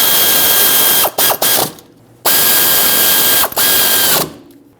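A power ratchet snugs the rear caliper bracket bolts on a 2018-2023 Subaru Crosstrek, loud close buzzing bursts broken by short pauses, two longer runs with quick stops between them, and no talking.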